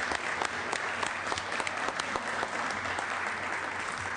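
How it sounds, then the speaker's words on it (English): Steady applause from an audience in a state Senate chamber as Loyola Marymount University students are recognized, a dense, even clapping that fills the room and holds at one level throughout. "Let's please give them a round of applause and recognition to Loyola Mount University."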